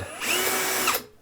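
A power drill pre-drills screw holes in a wall cabinet being installed as a base cabinet, one short high whining burst of about a second spinning up and cutting off abruptly, close and loud.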